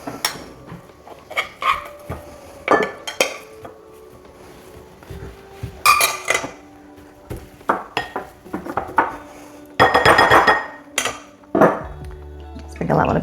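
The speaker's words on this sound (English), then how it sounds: "I'm going to slightly mash the they're more than parboiled" Boiled potatoes are lightly mashed in a pan with a utensil, giving a string of separate clinks, scrapes and knocks at an uneven pace, close by and fairly loud, with gaps in between.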